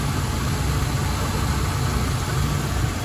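The engine of a 1976 Mercury Marquis Colony Park station wagon runs at a steady, close idle, a smooth low rumble with no revving and no voices.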